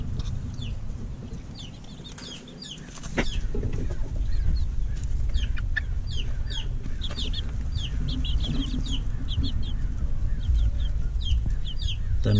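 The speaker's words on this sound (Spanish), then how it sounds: "Una gallinita cruzada con gallo colorado y gallina ceniza" Chickens in a yard, including a crossbred hen from a red rooster and an ash-grey hen, give repeated clucks and calls over a continuous low rumble, with a brief wing flap and a louder stretch after a few seconds.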